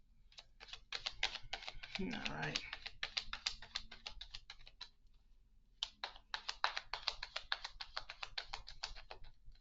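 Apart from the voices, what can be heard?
shuffling tarot cards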